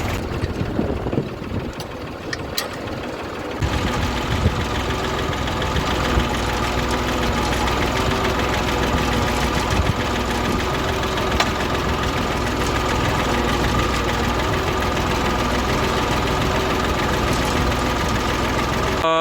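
A farm tractor engine drones steadily throughout while ploughing a field, a dense, loud mechanical rumble with a knocking edge and no voices.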